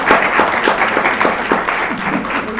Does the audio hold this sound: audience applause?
yes